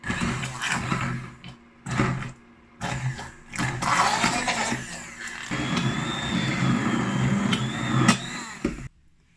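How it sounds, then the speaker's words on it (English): A Bamix stick blender purees apple ketchup right in the pot, whirring in short bursts, then a longer steady churning run before cutting out abruptly. "So I'm gonna use my Bamix stick blender and I'm gonna blend this right in the pot."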